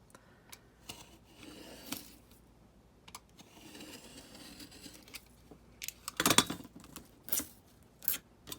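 A knife trimming the edge of a stitched paper pamphlet in light repeated passes, with soft scattered scrapes and clicks and one sharp cutting rasp near the end, quiet and close.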